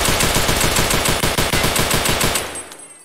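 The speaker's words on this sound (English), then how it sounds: "Let's shoot once again." Rapid automatic gunfire from Escape From Tarkov, a steady loud burst of evenly spaced shots for about two and a half seconds before cutting off into a short fading tail.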